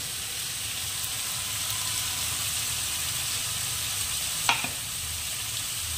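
Mutton frying with ginger, garlic, onion, cumin and chilli paste in a pan, a close, continuous sizzle and hiss with light stirring and one sharp utensil clink, no talking.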